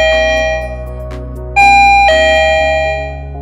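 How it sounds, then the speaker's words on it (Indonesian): A Bellucci Synteza smart lock's doorbell chimes loud and close, a sustained electronic ding-dong with bright tonal notes that step to a higher pitch partway through, then ring out and fade, with no talking. "ketika ada tamu datang, pencet bel"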